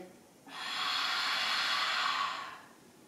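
A steady, forceful exhale through the mouth during a beginner Pilates abdominal and pelvic-floor exercise lasts about two seconds, close and breathy, rising quickly and fading out at the end, with no talking.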